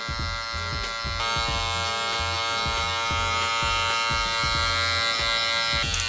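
Electric hair clippers buzz steadily and close up while cutting a low taper, the motor hum briefly shifting as the blades work through the hair.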